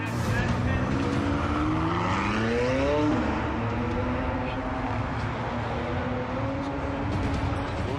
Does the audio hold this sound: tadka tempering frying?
no